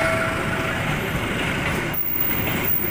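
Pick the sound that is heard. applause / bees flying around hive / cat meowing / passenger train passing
passenger train passing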